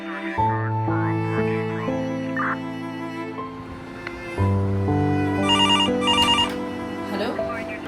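A telephone rings at a police station with repeated electronic ring bursts, loud and near, while people talk over it.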